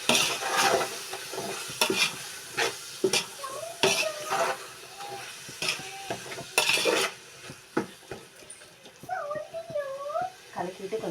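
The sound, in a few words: stirring masala in a pot while cooking chicken biryani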